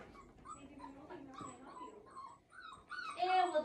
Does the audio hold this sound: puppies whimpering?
yes